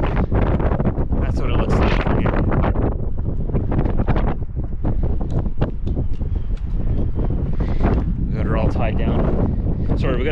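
Strong wind buffets the microphone in loud, irregular gusts and rumbles beside a truck, with some brief talking mixed in.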